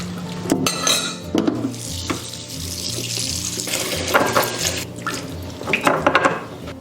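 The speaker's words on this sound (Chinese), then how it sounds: "焯好水以后，我们给它淘洗干净" Blanched pork ribs rinsed under a running kitchen tap, with water splashing loudly into a sink, and ribs and a bowl clattering and scraping as they are turned and washed.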